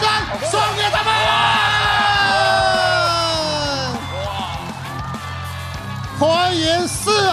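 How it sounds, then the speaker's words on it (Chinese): A large crowd at the Chunchao venue in Rongjiang, Guizhou yells, whoops and cheers in long, loud, sustained waves as the players arrive, with a fresh burst of shouting near the end. "用掌声欢呼声送给他们"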